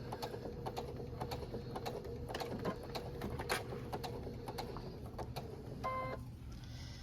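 A sewing machine stitches the seams of a pillowcase in short bursts at shifting speeds set by a foot pedal, a quiet, close mechanical whirr with a brief beeping near the end.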